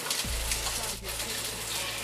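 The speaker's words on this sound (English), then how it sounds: "And my egg is frying in olive oil." Steady, dense crackling sizzle of an egg frying in oil, close and continuous, with a brief low thump near the start and no talking.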